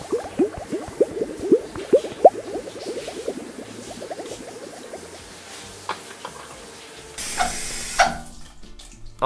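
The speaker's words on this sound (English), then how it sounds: "Get the water running." Tap water running to fill a bath in an animated Paw Patrol game, a close stream of splashing and gurgling bubbles, busy at first then thinning, with a brief louder gush near the end and no talk.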